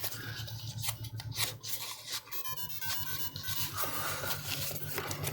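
Parts of a Macross Queadluun Rau model kit are sanded to remove seamlines: quiet, close, rhythmic rasping strokes repeat steadily with no talk.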